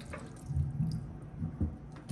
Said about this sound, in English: Let's pull the stopper. See how well this thing drains.